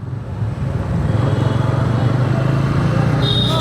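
A Bajaj Pulsar N160 motorcycle engine hums steadily while riding on a real road, a low continuous drone up close with constant loudness and road noise throughout.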